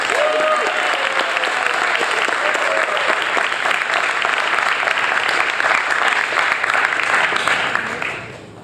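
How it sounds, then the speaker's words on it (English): Loud, sustained audience applause at a radio station's awards ceremony, thick continuous clapping with faint crowd noise that fades out at the very end. "One more big round of applause, please,"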